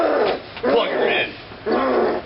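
A dog growls in three low, rough bursts with short gaps between, loud and close, sounding like a voice imitating a dog rather than a real animal.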